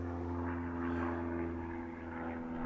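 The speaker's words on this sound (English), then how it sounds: "An airplane's flying by." An airplane passes overhead, heard as a steady low droning hum with a slight swell and fade, moderately faint and with no talking over it.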